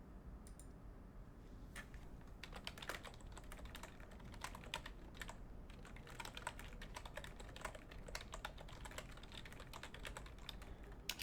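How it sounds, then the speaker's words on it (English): Steady typing on a computer keyboard, with quiet, rapid irregular key clicks running continuously for several seconds against a low background hum and no talk. "I guess I don't even know why I'm typing to you because you're watching here"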